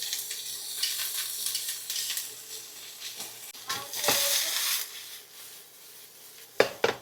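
Onions, peas, broccoli and carrot stir-frying over high heat for a beef stir fry, a bright hissing sizzle with rubbing, scraping tosses and a few sharp clanks near the end, close and without voices.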